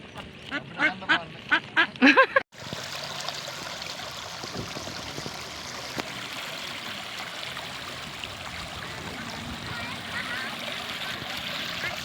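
Ducks at a pond where people are picnicking let out a quick run of loud quacks in the first couple of seconds. A steady outdoor wash like flowing water follows and continues to the end.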